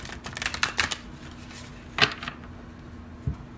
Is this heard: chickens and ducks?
no